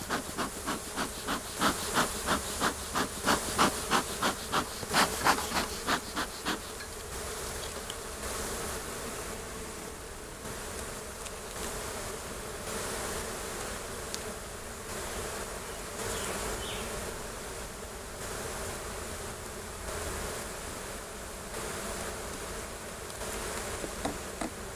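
Honey bees buzz steadily around an opened hive during an inspection, the dense drone loudest at the start with pulsing swells, then settling into a continuous hum close by.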